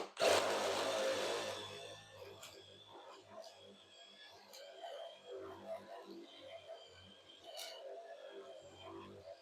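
A drill bores a 1-inch hole through a 2x6 wooden board in one loud, brief burst at the start, then winds down to faint knocks and clatter nearby.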